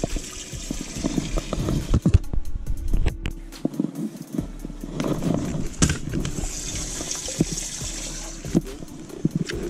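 A boat livewell pump on recirculate running on auto, pouring and trickling water into a partly filled well, steady and close with a low engine-like hum underneath.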